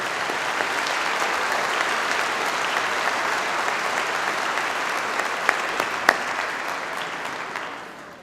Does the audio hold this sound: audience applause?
yes